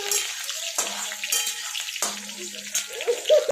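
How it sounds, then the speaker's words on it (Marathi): Curry leaves fry in hot oil for a batata rava chiwda, giving a crackling sizzle with bursts of spattering and small pops throughout. "कढीपत्ता छान तळून घेणार आहोत."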